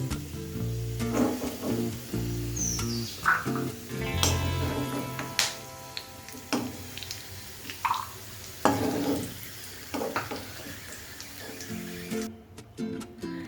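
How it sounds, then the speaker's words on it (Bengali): Raisins frying in hot oil until they puff up, a close, uneven sizzle with soft drips, stirring clinks and scattered pops over about thirteen seconds, no talk. "কিশমিশগুলো ফুলে উঠলে বুঝতে হবে যে ভাজা হয়ে গেছে।"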